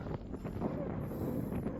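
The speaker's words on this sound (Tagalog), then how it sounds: "grabe ang lakas ng hangin" Strong wind gusts across a mountain top at Little Mt. Pulag (Mt. Yangbew), La Trinidad, Benguet, roaring and buffeting the microphone steadily throughout with a voice mixed in.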